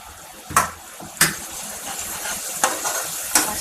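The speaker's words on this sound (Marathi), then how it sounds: "मसाले परतून घेऊया." Coriander powder, red chilli and garam masala sauté in a pan in a kitchen. A steady soft sizzle runs underneath while a spoon scrapes the pan in several sharp, evenly spaced strokes, and no one talks.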